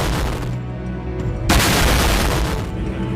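Explosive-laden FPV drones strike a position in a war zone, producing a loud, continuous rumble of blasts with a sharp, heavy burst about halfway through, no voices present.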